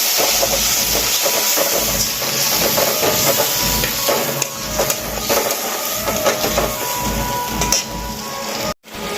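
Ginger-cumin paste and tomatoes fry in a pan for prawn curry, producing a loud, continuous hissing sizzle with faint scraping, broken by a sharp cut near the end.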